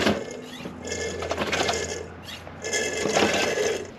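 Old oil being pumped out of a Jeep WJ Grand Cherokee gearbox, a close, uneven gurgling and sucking with bursts of liquid flow that pause briefly and resume, no voices.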